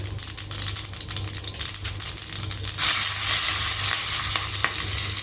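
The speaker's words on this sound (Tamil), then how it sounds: "கடுகு பொரிய ஆரம்பிச்சிருக்கு" Mustard seeds splutter and crackle in hot oil in a tempering pan for a South Indian lemon rasam, with green chillies and asafoetida added. The dense frying crackle is close and loud, stronger in the second half, with no talking.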